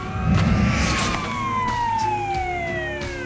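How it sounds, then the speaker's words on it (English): Police sirens wail with falling, overlapping tones, moderately distant and steady, while a vehicle engine rumbles beneath. "Following the sound of the approaching sirens, I slowly raise the gun."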